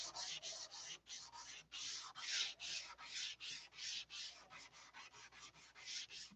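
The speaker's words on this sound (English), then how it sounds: "Got to get all this sanded back off." Paint is sanded back off a surface in a steady run of rhythmic back-and-forth strokes, around twenty passes, even and fairly close, with no voices.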